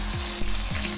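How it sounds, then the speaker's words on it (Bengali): Onion, garlic and green chili paste frying with whole spices such as cumin for jackfruit kalia, a loud steady sizzle with a few stirring scrapes, no voices. "এবার থেকে গন্ধ বেরোনো পর্যন্ত ফ্রাই করে নেব। পেঁয়াজ, রসুন, কাঁচা লঙ্কা পেস্টটা দিয়ে দেব।"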